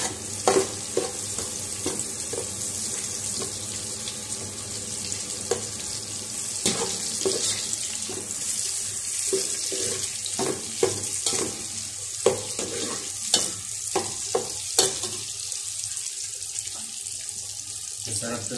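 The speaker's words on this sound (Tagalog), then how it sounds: "Papupulahin lang natin yung ating bawang guys." Garlic browning in a hot pan for a Filipino fish dish, a steady sizzle and crackle with scattered stirring clinks and scrapes, fairly close and continuous with no talk.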